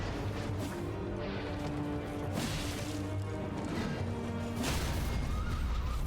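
Horse whinnying in a fight in the Elden Ring video game, heard amid dense, continuous battle sounds with crashes and heavy impacts, steady and fairly loud throughout.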